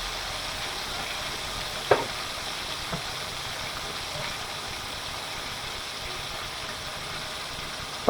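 Fish frying in a pan, scales still on, giving a steady faint sizzle throughout, broken by a couple of brief sharp pops or clinks.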